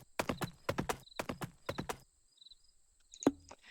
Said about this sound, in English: Let me just move this horse out of this house